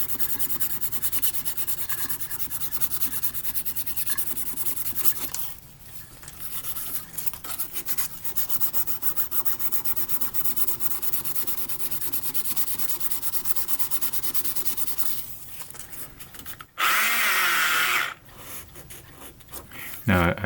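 Sandpaper scuffs an aluminum model ship part with continuous, close, gritty rubbing strokes and brief pauses, ending in a short, louder burst of scraping.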